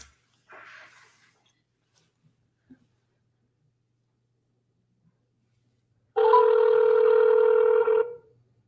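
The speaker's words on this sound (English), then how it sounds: "let's call old Douglas" An outgoing telephone call gives a few faint clicks, then near silence, then one steady ringback tone about two seconds long near the end.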